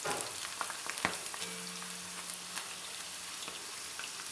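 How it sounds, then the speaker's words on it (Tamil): Tapioca chips deep-fry in hot oil over low heat, giving a soft, continuous sizzle with scattered tiny pops and a brief clink, faint and steady with no voices. "எண்ணெய் நல்லா காஞ்சதும் நீங்கள் லோ ஹீட்டில் வச்சு பொரிக்கணும்."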